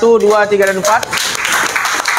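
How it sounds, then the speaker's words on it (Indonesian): A class of students applauds together after group presentations, a broad burst of clapping that rises after an opening stretch of a voice speaking over it. "Kita berikan dulu tepuk tangan dari kelompok 1,"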